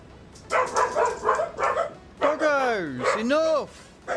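Dogs nearby bark in a quick run of sharp barks, then give long, wavering whining yelps, loud and close.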